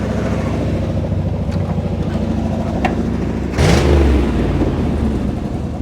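A 1975 Chevrolet Monte Carlo V8 runs at high idle, a loud, close, steady throbbing rumble that surges briefly louder partway through before settling again.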